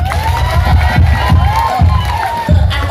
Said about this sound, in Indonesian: yes tepuk tangan untuk awewe